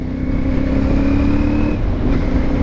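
Steady CF Moto 450MT motorcycle engine hum at close range, holding a fairly even tone with a slight pitch rise, continuous and loud, no voices.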